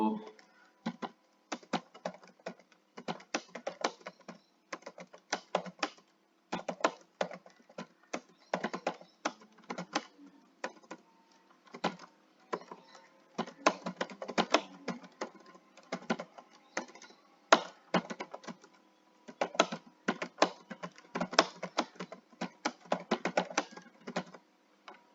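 Steady typing on a computer keyboard while writing Urdu poetry in MS Word, with quick irregular key clicks in bursts and short pauses throughout, close and moderately loud.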